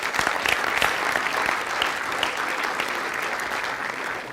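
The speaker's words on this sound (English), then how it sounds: "So a round of applause for John and Nick" An audience at a photography event gives a full round of applause, a dense, lively clatter of many hands that stays strong throughout.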